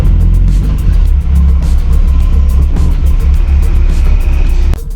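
Mk1 Volkswagen Golf on a road test drive with worn wheel bearings, a loud continuous low rumble and road drone from inside the car, steady throughout with a sharp knock near the end.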